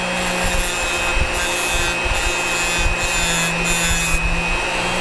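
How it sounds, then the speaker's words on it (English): A metal wire is ground to a taper on its side: a loud, continuous abrasive rasp with a few heavier pulses of pressure roughly every second, close by and with no talking. "grind a little taper into the side of the wire"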